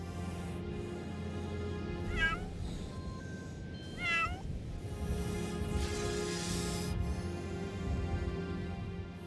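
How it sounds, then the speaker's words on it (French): A sand cat meows twice in clear, close calls over a steady background hum, heard alone without talk. "le chat des sables est respecté par les nomades"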